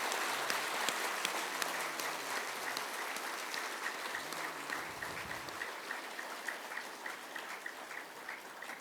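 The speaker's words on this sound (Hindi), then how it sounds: "सभी एक दूसरे के उत्साह वर्धन में तालियों की गड़गड़ाहट कर रहे हैं" An audience at a satsang claps together in encouragement, a dense, steady patter of applause like rain that carries on evenly throughout.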